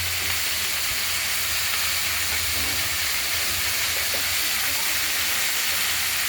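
Mixed vegetables hiss and sizzle loudly in hot spice tempering while being stirred, a dense steady frying roar with faint scraping under it, and no voices.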